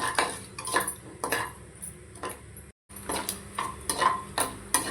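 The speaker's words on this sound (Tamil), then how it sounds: "முந்திரி பருப்பு, பட்டை, அன்னாச்சிப்பூ, ஏலக்காய் எல்லாமே போட்டுக்கலாம். லைட்டாக செவந்து வரட்டும்." Cashews with cinnamon, star anise and cardamom fry in a pan for paneer biryani, with a spoon clinking and scraping against the metal in repeated bursts over a faint sizzle, close by and with no talking.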